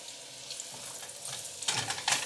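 Mushrooms, carrots, garlic and ginger sizzling steadily in a single pan for fried rice, a continuous close frying hiss that swells louder near the end as more goes in.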